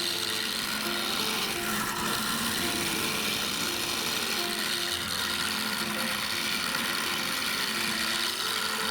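A wood lathe spins a walnut bowl blank held on a sacrificial 2x6 foot, a steady loud mechanical whir with a rough scraping texture from the turning tool, constant and near.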